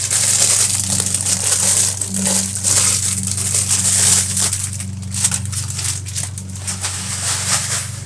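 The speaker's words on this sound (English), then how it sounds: "So we'll get the plastic open." Plastic packaging around a giant desiccant bag is pulled open by hand, close, loud crinkling and crushing that comes in repeated bursts and runs almost without a break.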